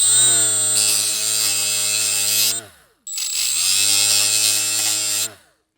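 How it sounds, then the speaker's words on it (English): Power tool grinding down a plastic tab on a 2016 Toyota Prius dash panel, two close, steady high-pitched whirring bursts of a few seconds each with a brief pause between them. "I'll grind down this tab"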